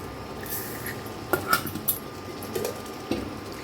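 Sugar being mixed into carrot halwa in a pot, a few soft scrapes and light metallic clinks of a spoon against the pot, quiet and close, with no talking.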